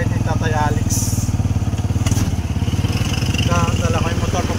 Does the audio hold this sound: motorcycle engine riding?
yes